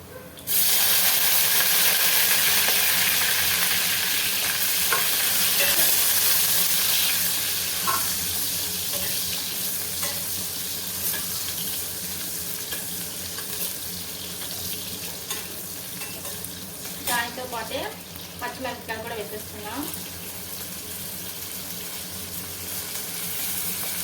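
Eggplant pieces frying in hot oil in a pan, a loud steady sizzle and hiss that eases slightly, with scraping stirs and clinks from a spoon partway through, close by.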